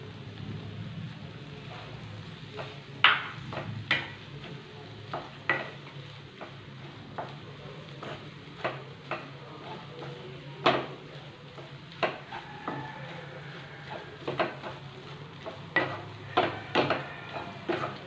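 Beaten egg being stirred into onions in a frying pan over medium flame, with a soft steady sizzle under repeated sharp scrapes and taps of a spatula against the pan, close and irregular, with no talking.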